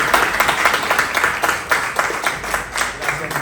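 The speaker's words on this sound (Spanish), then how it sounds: "Un aplauso para Manolo," An audience applauds Manolo Palacio before a musical moment at a comics talk, many hands clapping in a steady, moderately loud patter that holds throughout with faint voices mixed in.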